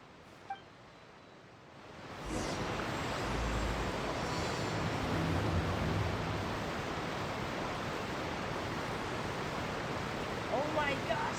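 Loud, steady rushing water fills the scene after a quieter opening, a broad continuous roar like a waterfall or strong current heard up close, with a brief thump near the start.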